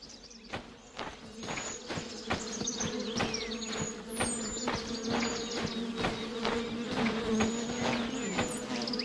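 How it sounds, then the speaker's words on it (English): Continuous buzzing of a bee swarm in a video game, steady and close, with a low drone throughout and repeated soft footstep-like thumps underneath; no talking. "I hear the bees. I don't see them."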